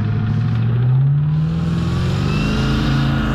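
An LS-powered jet boat with an LSA supercharger at full throttle, a loud, steady roar that rises in pitch as the engine climbs, running alone with no talk.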